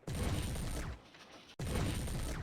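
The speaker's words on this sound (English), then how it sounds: "Fire a few more times at the mech, but do not destroy it." Weapon fire from a mech in MechWarrior 3 rattles out as a dense, loud volley, drops to a low rumble for about half a second, then bursts back just as heavily.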